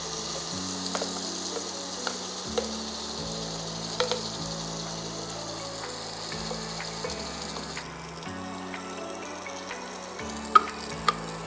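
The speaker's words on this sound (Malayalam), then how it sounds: "ഇനി നമ്മളിത് നന്നായി സോട്ട് ചെയ്ത് നമ്മുടെ ആ പച്ചമണമൊക്കെ ഒന്ന് മാറി വരുന്നത് വരെ നല്ല രീതിക്കൊന്ന് വഴറ്റിയെടുക്കണം നമ്മൾ." Beef vindaloo masala sautéing in a pan on the stove, with a steady sizzle and frying hiss, occasional scraping stir clicks, and a louder utensil knock near the end, with no voices present.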